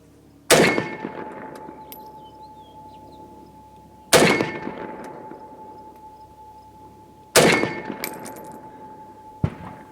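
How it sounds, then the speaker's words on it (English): Three loud rifle shots from a Russian rifle such as a Mosin fired at a 20-yard target, each a sharp crack followed by a long ringing decay, spaced a few seconds apart, with a fainter fourth bang at the end. "Okay, shooting at 20 yards first, and then we'll shoot out at 50."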